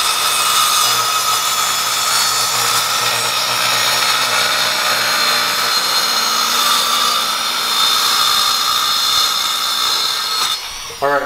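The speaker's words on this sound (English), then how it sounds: "Then we'll just drill holes and bolt it up." A power drill bores holes in a trailer to bolt on a winch, giving a steady high whine that runs almost unbroken for several seconds before stopping abruptly at the end.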